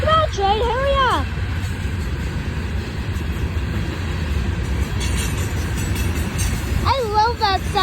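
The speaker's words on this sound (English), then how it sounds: "This train is long. Like it has 150 cars on it or something like that." A very long freight train of about 150 cars rolls past, giving a steady loud rumble and rattle of wheels on rails, with horn-like tones near the start and end.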